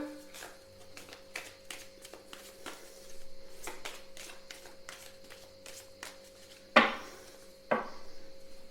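Tarot-style cards being shuffled by hand: a run of soft, quick riffling taps and flicks close up, ending with two sharper clacks, quiet and without talk.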